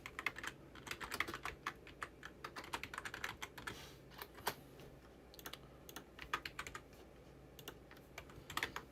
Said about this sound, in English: I'm gonna do some typing.